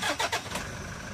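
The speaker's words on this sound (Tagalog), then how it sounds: "Pa-start ko muna itong makina." A Toyota Hi-Ace engine starts with a brief, loud burst of cranking that quickly settles into a steady running hum, with no talking.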